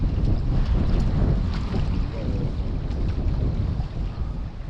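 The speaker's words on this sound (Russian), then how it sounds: "Волна здоровая, накручивает нормально" Strong gusting wind with big waves slapping against a small fishing boat on open water in rain, a loud continuous roar buffeting the microphone throughout with no one talking.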